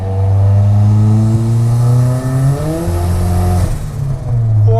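A turbocharged Eclipse engine swapped into a tiny pickup truck revs hard. Its loud, steady drone climbs in pitch through a pull, dips as the gear changes, then builds again. It is close and no one speaks.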